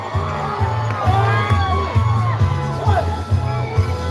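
Crowd cheering and shouting along a street march for an Independence Day women's 17 km walking parade, with steady broadband crowd noise, whoops and harmonic voices over a rhythmic low pulse of drumming or music.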